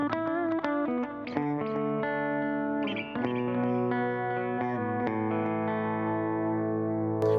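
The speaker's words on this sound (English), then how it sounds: "And now we'll just get rid of the distortion, so we've just got compressor and delay." An electric guitar through a compressor and a Boss delay pedal plays a slow sequence of clean, sustained notes and chords with a smooth, compressed tone and echoing repeats trailing behind each one.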